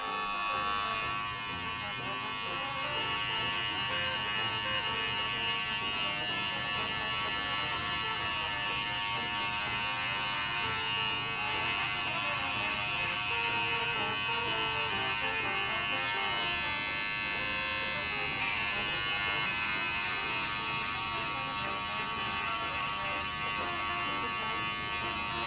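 Electric hair clippers buzz continuously and close by while cutting a bald fade with a side part, a steady high hum with slight shifts as the blade moves through hair.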